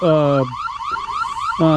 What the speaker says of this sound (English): my Wyze V4s that are on the bus have absolutely no delay from a detection to an alarm